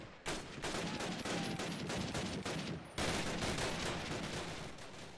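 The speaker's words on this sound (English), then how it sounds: "Are they shooting me through, like, this little thing?" Dense gunfire from the video game Call of Duty: United Offensive, rapid automatic bursts crackling almost continuously with a brief break near the middle, steady and loud with no talking.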